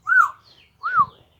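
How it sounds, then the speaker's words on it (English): Pet birds give two clear, rising-then-falling chirps indoors, close and alone, with a short gap between them. "Yeah, lovely birds."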